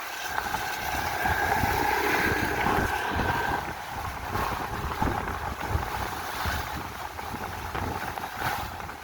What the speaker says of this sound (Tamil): அவ்வளவுத்துக்கு அலை மோதி கொண்டு இருக்கு பாருங்க.